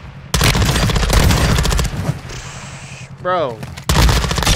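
Gunfire in Warzone 2, shots fired through a fence: loud, rapid automatic bursts near the listener, a brief lull with a short voice remark, then another burst at the end.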